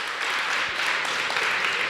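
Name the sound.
audience applause for student presenters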